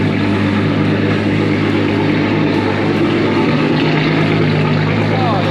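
A turbocharged VR6 engine with straight-piped exhaust and 268 cams idles with a loud, steady, lumpy drone that holds low and continuous throughout, with no pauses.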